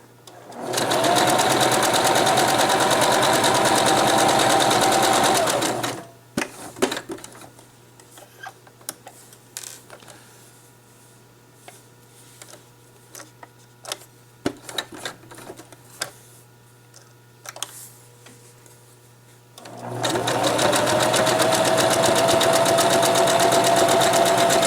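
A sewing machine stitches fabric for a duck pillow in two long steady runs, loud and close, separated by a quieter stretch of clicks and handling of the cloth.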